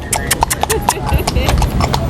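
Horse hooves clip-clop in a quick, even rhythm on a hard street in Guyana, close and clear, with faint background voices.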